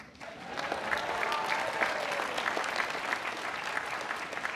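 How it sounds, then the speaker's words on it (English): Audience applauding during a speech by NVIDIA's founder and CEO at Caltech, a broad even clapping that swells quickly and holds, moderately distant, with a few voices and cheers in the mix. "maybe if you could just applaud"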